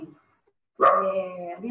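A small dog gives one close, loud bark that draws out into a whining, harmonic cry for nearly a second, after a brief earlier yip and a pause of silence.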